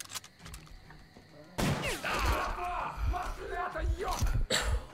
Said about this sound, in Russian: Он мне прям в лицо выстрелил.